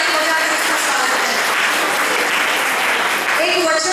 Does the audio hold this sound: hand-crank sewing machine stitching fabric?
no